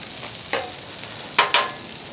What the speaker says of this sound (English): I'm gonna come in and flip our eggs